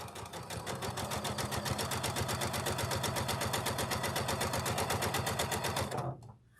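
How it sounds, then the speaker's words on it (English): A sewing machine runs a quarter-inch seam through pinned quilt patchwork, a fast even mechanical rattle that holds steady for about six seconds before stopping abruptly. "I'm going to sew a 1/4 inch. I'm going to pull the pins out as I go."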